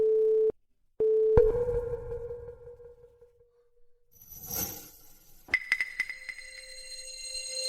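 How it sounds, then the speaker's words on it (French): Telephone call tone on a line where nobody answers: two short steady tone bursts, then a longer sustained tone, clear and alone before other sounds take over. "Mes parents ne répondent pas au téléphone."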